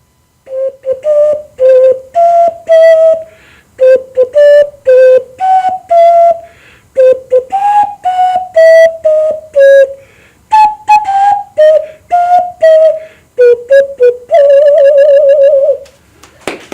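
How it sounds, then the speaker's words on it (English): A comedian hand whistles a tune by blowing through cupped hands, producing loud, clear, hollow tones in short phrased notes, with a warbling trill at the end. "I got hand whistling."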